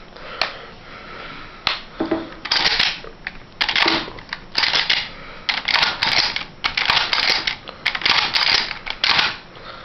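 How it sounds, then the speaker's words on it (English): Remington 11-87 shotgun parts clicking and snapping back into place during field stripping, a series of sharp, close mechanical clicks and clacks in irregular bursts with no talking. "Now you'll hear it click back on"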